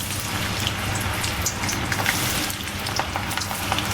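Steady, dense crackling sizzle of banana slices frying in hot oil for sharkara varatti, loud and close, continuing without pause and with no voices.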